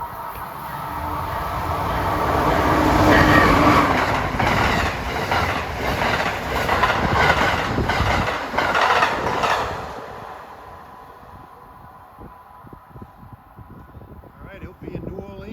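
Amtrak train 19, the Crescent, rolls into Aberdeen station with a loud rumble and rhythmic clickety-clack of wheels over rail joints that peaks and then fades as it slows, with people talking nearby.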